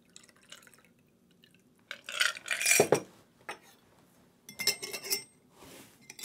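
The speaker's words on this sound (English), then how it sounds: "strain into the glass" A chilled cocktail of orange bitters and Old Tom gin is strained from a shaker into an iced Nick and Nora glass, with quiet splashing pours and small metallic clinks in two bursts.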